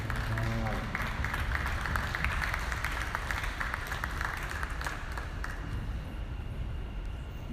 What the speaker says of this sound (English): Let's give Lars a nice round of applause.